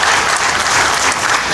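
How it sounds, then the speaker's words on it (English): Summit attendees give a hand clap for the Ministry of Education, a loud, continuous wash of crowd applause filling the short moment on its own. "A hand clap for Ministry of Education."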